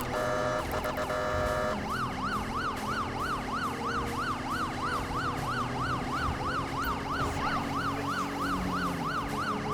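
An unmarked NSW VF Commodore's police siren runs in the video game GTA 5 during an LSPDFR police mod chase. A brief, harsh burst gives way to a rapid, steady yelping whoop that repeats loudly over engine rumble.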